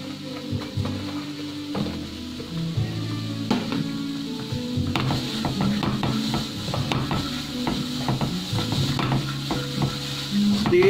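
Cabbage and carrot being stir-fried in a pan for a Thai tom yam with udon: continuous sizzling with repeated utensil scrapes and clatters against the pan, close and moderately loud, with no talking.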